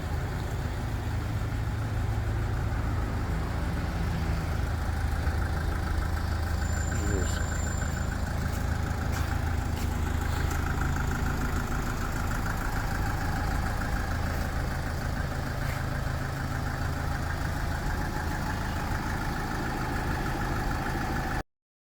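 A Hyundai Terracan diesel engine idles steadily and continuously at moderate loudness, a low rumbling drone that holds even for the whole stretch with a brief faint chirp partway through.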